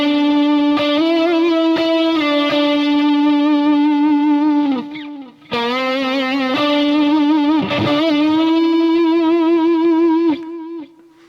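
Distorted electric guitar phrase with whammy bar vibrato and pre-bent notes, sustained singing lines with a brief dip and pause before the melody resumes, loud and alone.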